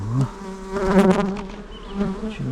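Honeybees hum steadily at an opened hive after two warm days, a close, dense, droning buzz with individual bees swelling louder as they pass near.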